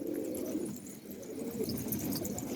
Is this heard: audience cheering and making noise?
no